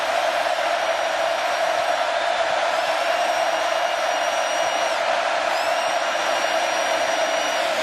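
Steady, dense crowd roar from Texas A&M Aggie fans at a 2018 college football game against Clemson, filling the stadium continuously with a high whistle-like tone drifting above it, no distinct cheers standing out.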